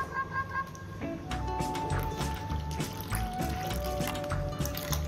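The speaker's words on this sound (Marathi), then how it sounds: "मी थोडंसं पाणी घालून देते." Water is poured into beetroot soup, a close liquid trickle and splash with small drips, while someone talks over it.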